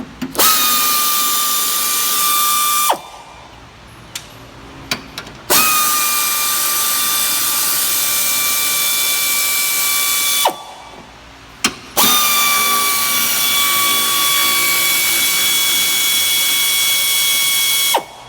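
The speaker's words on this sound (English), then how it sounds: "we're going to use this loud 3/8 air ratchet and 10 millimeter, start pulling some bolts out" A loud, close 3/8 pneumatic air ratchet with a 10 mm socket whirs in three long bursts, removing bolts on a 2002 Honda CR-V, with brief pauses and a few clicks between them.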